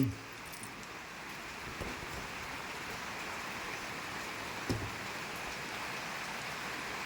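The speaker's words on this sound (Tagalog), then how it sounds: "Kay ulan." Steady rain falls on a cold morning in a Philippine city, a dense, even hiss that holds for the whole stretch with only a couple of faint knocks. No one speaks.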